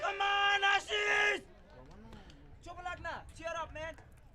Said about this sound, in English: We got the excited crowd right.